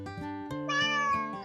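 A domestic cat gives a single drawn-out meow that rises and falls, close and clear, with no other sound around it.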